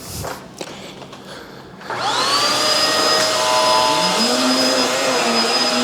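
A Hoover Tangle Guard upright vacuum cleaner switches on partway through and runs on a rug with a loud, steady motor whine and droning roar, sounding close by, after a short stretch of quieter shuffling.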